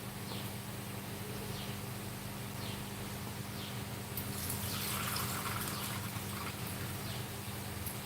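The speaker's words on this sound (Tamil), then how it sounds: "புளித்தண்ணி ஊற்றிடலாம்" Tamarind water pours into a cooking pot in a home kitchen, a steady close liquid wash that swells toward the end of the pour over a constant low background hum.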